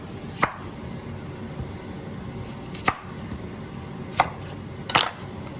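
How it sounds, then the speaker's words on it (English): A knife chops through a fresh onion on a board, four sparse, crisp cuts spaced a second or more apart over a faint steady background hiss. "So we are gonna start cutting our veggies. So this is our fresh onion."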